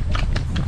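A horse eating gives three quick, crunchy bursts of chewing in well under a second, close by and fairly loud.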